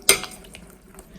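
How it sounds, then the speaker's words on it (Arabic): A spoon stirring meat with brown sugar in a pot, one close clank of utensil against the pot followed by faint scraping and soft sizzling. "غنحركها."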